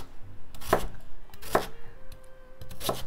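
Potatoes are diced on a cutting board for Icelandic meat soup, with a few sharp knife chops spaced about a second apart, close and clear over quiet kitchen background, without talking.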